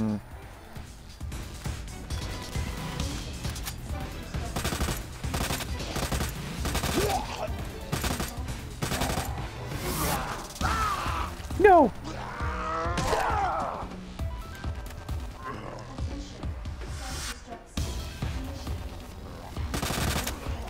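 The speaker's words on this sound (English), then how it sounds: "Ooh, I have a submachine gun." Submachine gun fire in Resident Evil 2 (Ghost Survivors) comes in repeated rapid bursts and scattered loud cracks across the stretch, with someone talking in between.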